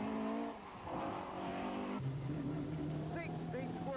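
A Welsh-built rally car on a stage of the 2003 West Cork Rally, its engine revving hard through gear changes close by, with a commentator's voice over the engine.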